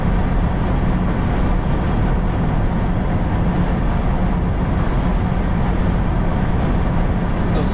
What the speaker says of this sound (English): you can definitely hear the wind noise, but it's not bad though